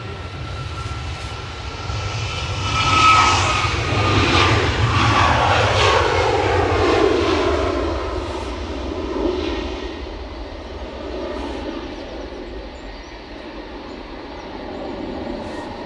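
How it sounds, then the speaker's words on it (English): A Ryanair airliner inbound from Riga approaches Edinburgh Airport, its jet engine roar swelling steadily with a falling whine and then sustained over windy outdoor noise, with no talking. "So, inbound Ryanair from Riga."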